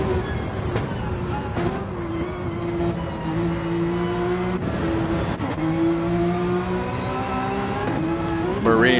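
Gr.3 race cars lapping the Nurburgring in Gran Turismo 7, a steady engine drone rising and falling through gear changes, with another car's engine layered over it.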